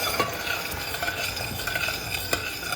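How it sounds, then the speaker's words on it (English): Butter and honey stirred in a pan over medium-high heat, with a steady close sizzle and scraping stir strokes running throughout, plus a few sharper clicks of the utensil against the pan. "Then we stir on medium-high heat."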